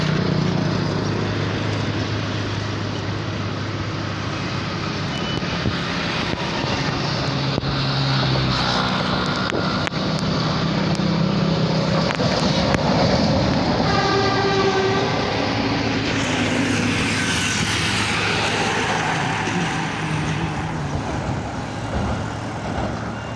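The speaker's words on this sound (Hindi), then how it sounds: "ये जो आ रहा है ना, ये रिपेयरिंग वाला है। ये ट्रैक को सेट करता है।" A railway track repair vehicle rolls past on the line, a loud, close rumble of wheels and engine with horn-like tones swelling midway and a hissing rush near the end; no voices.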